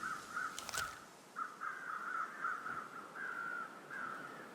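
Crows caw in The Long Dark, a wilderness survival game, as a string of harsh, repeated calls that come in short bursts at moderate distance over a quiet outdoor background, with no talk.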